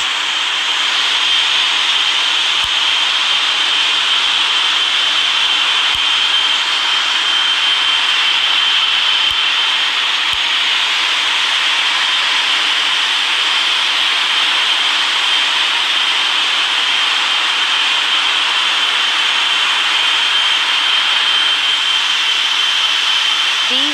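Jet engines of a Boeing 777-300ER on its takeoff roll at Funchal, Madeira, a loud, steady, unbroken roar with a strong hissing whine that holds throughout without talk.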